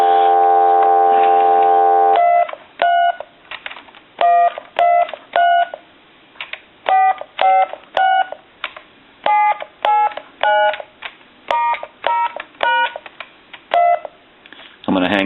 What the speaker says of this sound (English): And I'm going to dial our numbers,